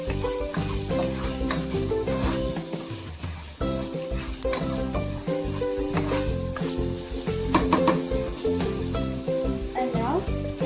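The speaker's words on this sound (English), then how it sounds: "Now we're gonna add 4 tablespoons of tomato paste. And now we're gonna stir it." Tomato paste sizzling and being stirred in a pan, a steady close frying hiss with intermittent stirring scrapes, partly masked by a continuous tonal background sound.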